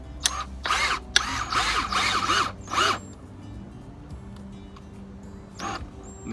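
A power drill drives a 2.5 inch screw into house siding while mounting a window planter box, in several loud whirring bursts with short pauses between them, then quieter handling noise and one last brief burst.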